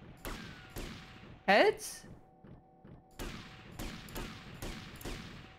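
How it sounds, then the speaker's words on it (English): Firing-squad gunfire in GTA: Vice City, a series of sharp in-game shots spaced out over a few seconds, with a loud burst near the start and a voice speaking briefly. "Live ammunition! Aim! 3, 2, 1, fire!"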